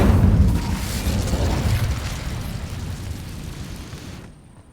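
An Incendio fire spell cast in Hogwarts Legacy, a loud, sustained rumbling whoosh of flame with a strong low roar that slowly fades and cuts off sharply at the end.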